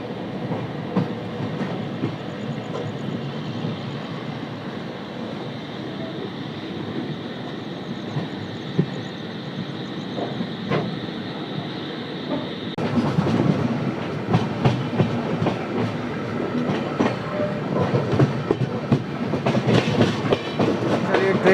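Bhopal Express passenger train running on the rails, a steady loud rumble heard from inside the coach with occasional clacks, growing noticeably louder and harsher partway through when the noise opens up, with no talking.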